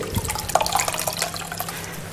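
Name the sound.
squeezing water out of soaked bulgur by hand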